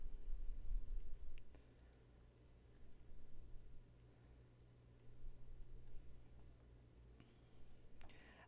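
Faint computer mouse clicks at a desk, a few soft, sparse clicks spread over several seconds against a low steady hum, with no talking.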